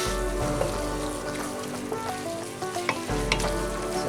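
Garlic sizzling and frying steadily in a pot at the start of a hearty hamburger soup, a dense continuous crackle close by with a few small spoon scrapes and pops, no voices.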